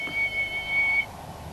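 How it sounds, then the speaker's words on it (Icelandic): A steam locomotive whistle sounds a single high, steady tone for about a second against a quiet background, then cuts off. "Skyndilega heyrðu þeir blístrið í eimreiðinni."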